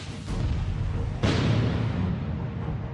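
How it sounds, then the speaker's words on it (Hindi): A rocket explodes near the presidential palace in Kabul during Eid prayers. A sharp, loud boom cuts through steady background rumble, then a long reverberating roar, with no voices. "और ये तीसरा धमाका।"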